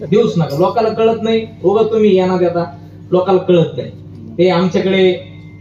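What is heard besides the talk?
No distinct noise like a dog, phone or traffic.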